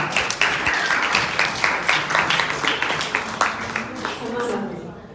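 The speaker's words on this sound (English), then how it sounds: "Let's give him a round of applause." An audience applauds to welcome comedian Josh Rosen to the stage, with a burst of fairly loud clapping lasting several seconds as a voice talks over it.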